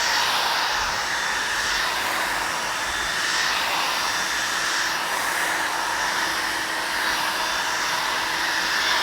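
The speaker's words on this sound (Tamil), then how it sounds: "ஸோ இப்போ வந்து ஹேர் வந்து ட்ரை பண்ணிடலாம். செகண்ட் செட்டிங்ஸ் வச்சு நான் பண்ணுறேன்." A hair dryer on its second setting blows steadily for several seconds, close and loud, with a constant whooshing roar and small shifts as it moves around the hair.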